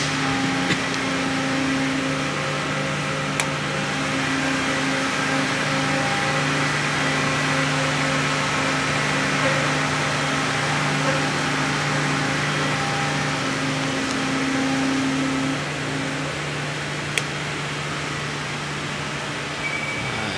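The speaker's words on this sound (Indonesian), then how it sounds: "ini mesin pembuat botol 1 liter" A bottle-making machine producing 1-liter bottles runs in a factory with a steady, loud mechanical hum and sustained tonal whine, punctuated by occasional sharp clicks, no voices.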